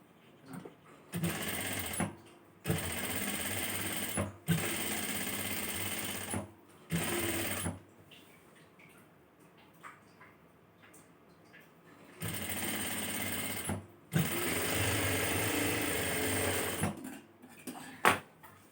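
A sewing machine stitches along the seam allowance of a chudithar neckline in several loud, rapid bursts separated by short pauses and one longer quiet gap.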